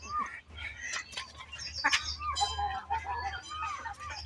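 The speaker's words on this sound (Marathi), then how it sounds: "आत्ता सध्या तीस ते पस्तीस कोंबड्या आहेत आणि साठ सत्तर कोंबड्या आहेत" Backyard flock of village chickens and roosters, with clucks and crowing calls overlapping close by in a busy farmyard, some faint voices in the background.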